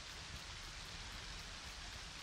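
Steady rain falls in the video game LEGO Fortnite, a continuous hiss of droplets with no other sound over it.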